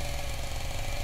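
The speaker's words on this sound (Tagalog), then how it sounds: "Pinandar ko ang chainsaw at hinablot siya bago pa man niya maisara ang pinto." A chainsaw engine roars steadily and loud, a continuous rough mechanical drone with a buzzing low rumble, used as a horror-story sound effect, with no voices over it.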